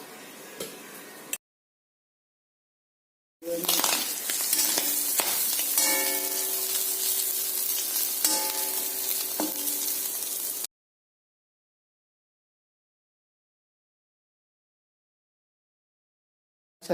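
Mustard seeds and onion fry in a hot pan as a tempering for a Kerala mango curry, giving a loud, steady sizzle of about seven seconds between stretches of silence.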